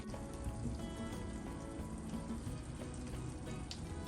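Olive oil sizzling and crackling steadily in a pot as vegetables start to sauté, a close, continuous frying hiss with no talking.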